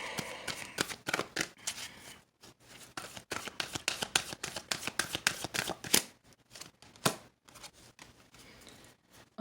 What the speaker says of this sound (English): Oh, these cards are so stuck together.